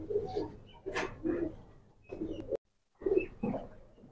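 Green-necked pigeon giving soft, repeated coos in short rounded phrases, close and fairly quiet, with a brief gap of silence before two more coos.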